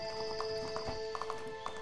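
Horse in the video game Animallica, rapid clip-clop hoofbeats with a steady tonal hum underneath, loud and close, ending in a few sharper hoof strikes.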